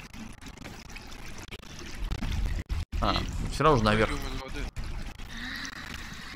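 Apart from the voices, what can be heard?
water pouring in sewer, from video game Conan Exiles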